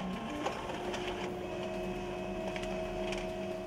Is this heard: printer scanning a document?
yes